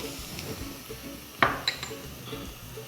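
Onion, carrot and cabbage sauté over high heat in a pan for lemon coriander soup: a soft, low sizzle broken by one sharp metal clank of the utensil and a few lighter taps.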